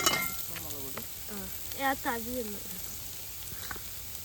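Masala being stirred in a frying pan for a homestyle chicken curry, a steady low sizzle with scraping stirs, under a voice talking throughout.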